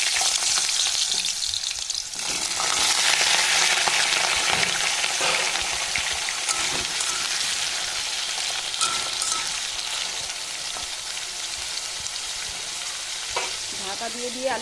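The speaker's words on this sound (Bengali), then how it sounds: "তেলটা আমার গরম হয়ে গেছে, এখন আমি আলুটাকে ভেজে নেব লাল লাল করে" Potatoes fry in hot oil in a wok, giving a steady, loud crackling sizzle with occasional stirring scrapes throughout, louder in the first few seconds and no voices.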